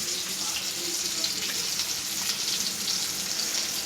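Fish (shingta, a freshwater catfish) frying in a pan over a low gas flame, giving a steady, continuous hiss and crackle close by with no talking.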